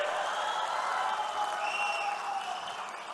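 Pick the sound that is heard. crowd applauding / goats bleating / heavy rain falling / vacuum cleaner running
crowd applauding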